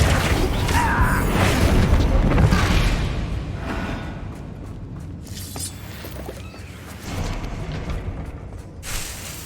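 Bombarda blasting spells in the Hogwarts Legacy game burst out as loud, booming explosions with whooshing debris, up close and dense, over a rumbling, busy game soundscape.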